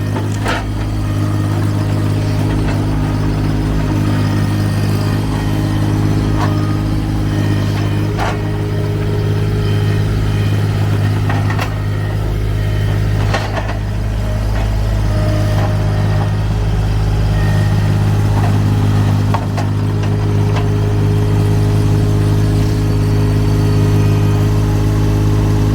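A motorcycle engine runs close by with a steady, loud mid-pitched drone as it is given a little gas, holding a fairly even throttle throughout with no talk over it.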